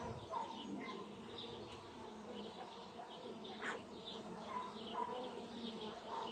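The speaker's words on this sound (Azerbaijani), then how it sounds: "Arılar hələ ki səbirli davranırlar." Honeybees hum steadily around an open hive whose colony is preparing to swarm at dusk. The buzzing is soft and distant, with faint bird chirps mixed in.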